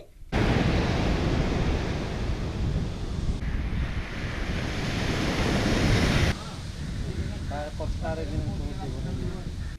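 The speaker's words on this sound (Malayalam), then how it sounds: "നൂറ് മീറ്ററോളം വീതിയിൽ കടൽ കരയിലേക്ക് കയറുകയും ചെയ്തു" Rough, stormy sea surging onto the shore during coastal erosion, a loud continuous roar of surf with heavy wind buffeting the microphone, and a voice speaking faintly underneath near the end.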